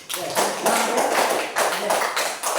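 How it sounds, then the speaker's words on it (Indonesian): A classroom group claps hands together in a sustained burst of overlapping claps, fairly close and loud, with several rhythmic swells over a couple of seconds. "Oke, tepuk tangan dulu."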